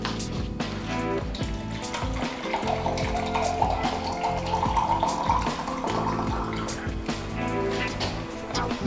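Water pours and splashes from a can into a cup on a homemade Rube Goldberg contraption, a steady trickling gurgle close by with a voice talking faintly at times.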